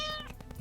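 A pet cat meows once, close and fairly loud, a short rising-falling call with no talk over it.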